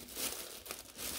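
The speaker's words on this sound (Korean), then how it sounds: "어떤 스타일 옷인지 먼저 비닐을 벗겨보겠습니다." Close-up crinkling of plastic vinyl wrapping as it is peeled off a handmade layered jacket from Maison Marais, a brief run of soft rustles and crackles.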